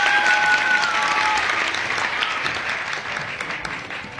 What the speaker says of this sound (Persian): آفرین، تشویق